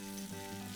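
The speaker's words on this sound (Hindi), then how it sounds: "मैं इसको जब सौटे कर रहा हूं, टॉस कर रहा हूं" Eggplant and rice with sesame and basil sizzle in a hot pan as they are sautéed and tossed for teriyaki eggplant with cashew rice, a steady close frying hiss with no talk.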